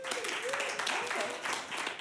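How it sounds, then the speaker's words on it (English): Small smattering of audience applause at a live improv comedy show, a thin crowd clapping steadily for about two seconds with cheering voices mixed in, moderately loud and close. "A round of applause who has been here before for Showdown"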